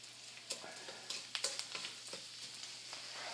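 Rice sizzles in a hot pan for mushroom risotto, steady frying hiss with intermittent scraping stirs and clicks, close and alone.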